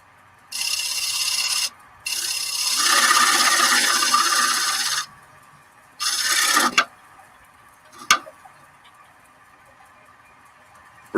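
Chisel paring into wood, relieving the bottom of a cut: several sustained rasping scrapes of a second or more each, close and fairly loud, then shorter scrapes and a few sharp taps, with no talking.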